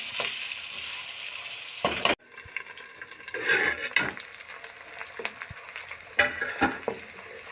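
Onions sizzle and fry steadily in a pan, the base for a cauliflower and potato curry, with a brief break and then renewed crackling as they are stirred, close and continuous with no talk.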